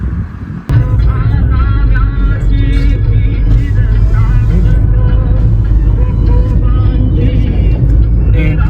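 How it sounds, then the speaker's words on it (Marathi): Traffic rumbles past on a scenic road beside a dam in Maharashtra, heard from beside a parked car: a loud, continuous engine drone and road roar that starts abruptly and holds steady, close to the listener. "इथे गाडी उभी केली आहे आणि तिथून गाड्या येत आहेत"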